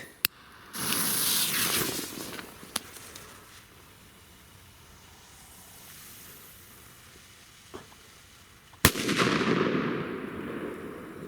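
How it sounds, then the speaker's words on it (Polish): A Zena Colour Bang firecracker goes off outdoors: sharp isolated cracks and a final loud bang, each followed by a hissing, sizzling spray of sparks lasting a second or two, with quiet stretches between. "Całkiem dobre te petardy."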